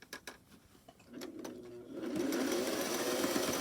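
Sewing machine stitching fabric for a stuffed bunny toy, a few soft clicks and short bursts before settling into a steady, close whirring run of stitches.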